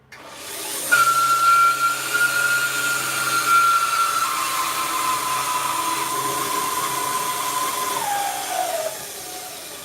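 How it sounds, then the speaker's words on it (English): Woodworking bandsaw in a woodturning workshop, starting up with a sudden whir and settling into a steady hissing hum whose pitch slowly drops as it winds down near the end; close, alone, no talking. "Plug the bandsaw back in."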